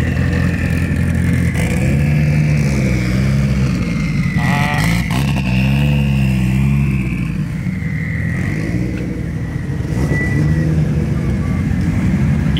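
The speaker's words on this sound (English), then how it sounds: "Listen to this whistle on this. This is a turbo." A twin-turbo Lamborghini accelerating hard away from a car meet, its loud engine roar rising and falling as it passes close, with a high turbo whistle riding over the exhaust.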